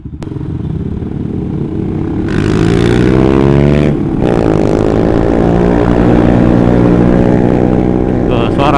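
Suzuki GSX-R150 motorcycle fitted with an R9 Mugello aftermarket exhaust, running loud and continuous close by, its engine note rising as it revs and holding a strong throbbing drone throughout.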